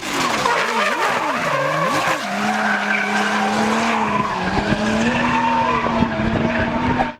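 Drift cars with high-powered engines slide through a run of loud, sustained tire squeals and skids, engine note rising and falling beneath the screeching rubber, close and continuous.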